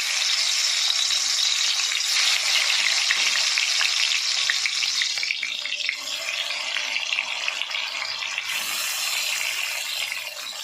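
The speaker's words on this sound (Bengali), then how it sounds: "আমি মাছগুলো এবার ভেজে নেবো" Fish pieces rubbed with salt and turmeric fry in hot oil, giving a loud, continuous close-up sizzle and crackle that eases slightly toward the end.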